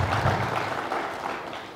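An audience at a personality and success talk claps briefly, a broad wash of applause that fades out over under two seconds.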